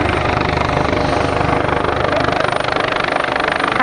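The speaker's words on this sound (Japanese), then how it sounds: "正面にホバリングし旋回" OH-1 military helicopter hovering and turning at an air base show, a loud continuous rotor and turbine roar with a steady blade chop, close and unbroken throughout.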